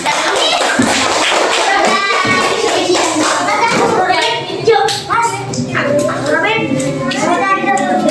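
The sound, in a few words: children clapping for a classmate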